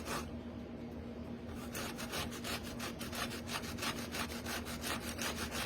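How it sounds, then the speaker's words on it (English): Zucchini is rubbed against a kitchen grater in quick, even back-and-forth strokes, a close, rasping shredding sound that starts after a brief pause and keeps a steady rhythm. "Just grate it on your grater."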